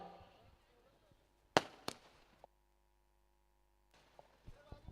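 Firecrackers go off at a welcome and arrival ceremony at a village cricket tournament: a sharp, loud crack followed by a second bang, then quiet with scattered faint pops and crackles near the end.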